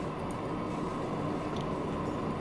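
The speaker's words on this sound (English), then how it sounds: "And now the train pulls out." Electric train pulling out in the video game Transport Fever, a steady rumbling roll of wheels and carriages with faint squeaks on top.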